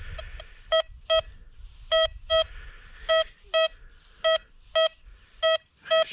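Paired short electronic beeps repeat in a steady rhythm, several double tones from a metal detector signalling a fairly deep target over a soft background rustle.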